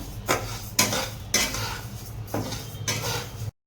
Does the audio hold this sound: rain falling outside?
no